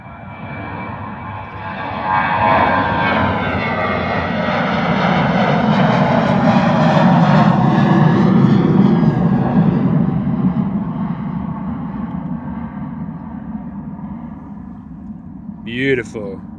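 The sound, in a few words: Jet2 airliner departing Bristol Airport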